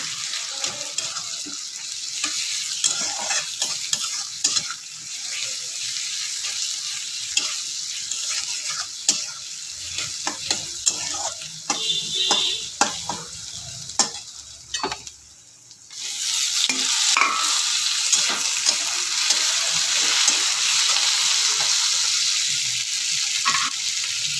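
Ginger, garlic and masala fry in a pan while being stirred, a loud continuous sizzle broken by scraping spoon strokes, with a brief dip before the sizzle surges back stronger.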